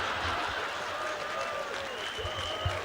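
An audience applauds at a stage celebration, a sustained wash of clapping from a crowd with a sharper clap near the end.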